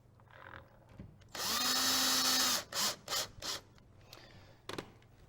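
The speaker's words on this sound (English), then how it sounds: "When we're tightening these down on the master, we want to make sure we don't over tighten them." A power drill drives screws into the plastic faceplate of a DMC1 or DMC3 CD player retrofit, one sustained whir of about a second followed by three short quick bursts and a faint last blip, close and otherwise quiet.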